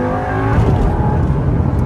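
Lamborghini Gallardo Gen 1 Superleggera engine pulling hard under acceleration, a loud, close, steady roar with rising harmonics and no pause.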